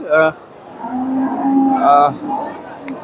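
A dairy cow moos twice at close range at a cattle market in Bogura, a short low call followed by a longer drawn-out one, with a murmur of people nearby.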